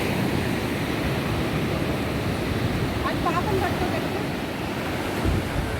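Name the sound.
waves at Palavakkam beach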